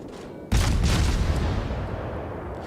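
A heavy naval gun salvo from a Yamato battleship in a World of Warships-style naval game erupts as one loud, deep boom that rolls into a long rumbling decay, with no talk over it.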